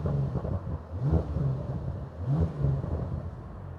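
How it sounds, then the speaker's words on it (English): A 2023 Bentley Continental GT Speed engine in sport mode revs up twice in short bursts, its low exhaust rumble rising and falling close by. "And then I'll give it a little rev."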